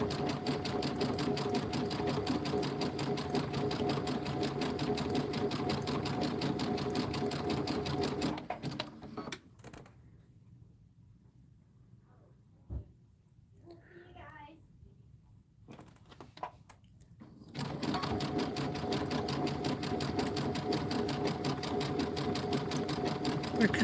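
Embroidery machine stitching a Kimberbell holiday rope bowl in the hoop, a steady rapid mechanical whir that stops for several seconds of near silence with faint handling noises, then resumes at full loudness.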